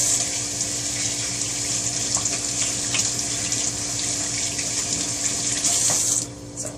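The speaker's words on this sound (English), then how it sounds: "So, turn off the water." Water runs steadily from a kitchen sink tap, a constant loud rushing hiss that cuts off abruptly near the end as the flow is shut.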